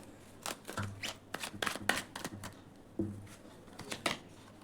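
Tarot cards are shuffled and drawn, soft papery riffles and sharp flicks coming in quick clustered bursts, close and fairly quiet, with a faint low hum underneath.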